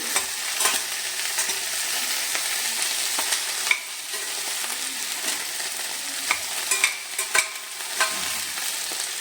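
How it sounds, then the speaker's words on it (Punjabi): Masala okra being stirred in a hot frying pan, a continuous close sizzle broken by repeated scraping and clacking of the spatula against the pan, with no voices. "ਇਹਨੂੰ ਅੱਛੀ ਤਰ੍ਹਾਂ ਮਿਕਸ ਕਰ ਲੈਣਾ"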